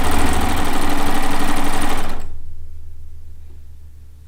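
A sewing machine runs a quarter-inch quilt seam in a fast, even mechanical whir for about two seconds, then stops abruptly, leaving near silence.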